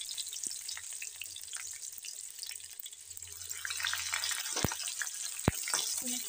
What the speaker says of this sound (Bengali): পেঁয়াজটা আমি একটু ভালো করে লাল লাল করে এখানে ভেজে নিচ্ছি